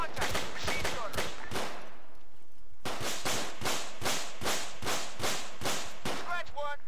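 Rifle and machine-gun fire in ARMA 3 cracks out as sharp, loud bursts of rapid shots, with a short lull in the middle before the firing resumes. Voices speak between the volleys.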